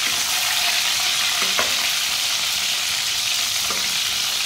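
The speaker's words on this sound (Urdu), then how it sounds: "اسی طرح اسے 4-5 منٹ کے لیے بھون لینا، پکا لینا اسے" Apple gourd (tinda) pieces fry in a pan, giving a loud, continuous close-up sizzle broken by a couple of sharp scraping knocks from stirring, with no voices.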